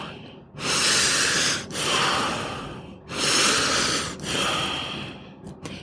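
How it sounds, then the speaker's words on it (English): A group of people breathes deeply three times together, each long airy inhale followed by a slower exhale, loud and close with no talk between breaths. "So we're going to breathe 3 times"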